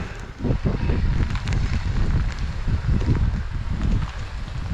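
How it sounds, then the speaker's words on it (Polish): Strong wind buffets the microphone in a steady, roaring rush, with rustling and gusty low rumble throughout and no voices. "To już wiatr trochę za duży."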